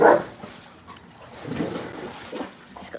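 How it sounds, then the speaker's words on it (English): A dog gives one loud, deep bark at the very start, followed by quieter snuffling and faint movement sounds. "He's got such a loud bark when he decides to let it rip. So deep."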